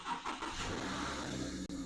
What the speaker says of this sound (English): Now I'm going to push the brake, and it's going to start the car.